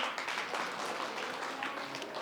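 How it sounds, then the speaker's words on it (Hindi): Applause from an audience at a quiz gathering in a Buddhist vihara in Brahmapuri, steady and moderately faint throughout, with no voices over it. "एक बार फिर से सभी के लिए तालियां"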